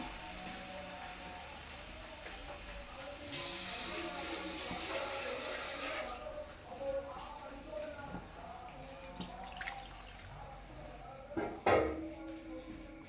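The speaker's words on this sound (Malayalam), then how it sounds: "നമുക്ക് ഗോതമ്പ് അങ്ങോട്ട് ഇട്ട് കൊടുക്കാം വെള്ളത്തോടുകൂടി അങ്ങിടുക ഇച്ചിരി വെള്ളമോട് ഒഴിച്ചു കൊടുക്കാം" Broken wheat and water are tipped into a hot pan, setting off a sudden sizzling hiss that lasts a few seconds, followed by faint clinks and scrapes of utensils against the pan.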